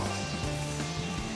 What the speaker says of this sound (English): did you guys hear a croak when, like, the only fucking thing in the environment around us is a frog?